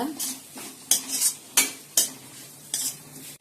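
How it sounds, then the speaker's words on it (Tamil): Egg and vegetables for chicken fried rice are stirred in a hot pan: about six sharp, close spatula scrapes at an uneven rhythm over a light sizzle, with no talking. "இப்போ முட்டையோட அந்த காய்கள்லாம் கலந்துடலாம் நம்ம"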